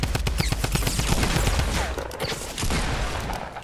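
Rapid bursts of gunfire in the Fortnite video game, a loud, close fusillade of sharp shots in quick succession, with a few more scattered shots trailing after.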